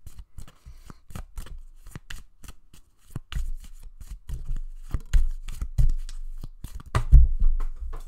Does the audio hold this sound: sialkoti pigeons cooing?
no